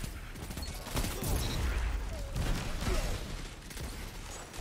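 Redrix's Broadsword pulse rifle fires in Destiny 2 amid a busy game mix, with dense overlapping bursts of shots and impacts throughout, loud and close.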